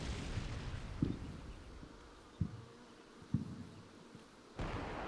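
Mortar fire in the video game Combat Mission Cold War shows as four dull, distant thumps spaced a second or so apart over a faint low hum, with no speech.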